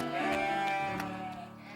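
Cartoon sheep bleating, a single drawn-out wavering bleat with a few short pulses, fairly close and clear, with no talk over it.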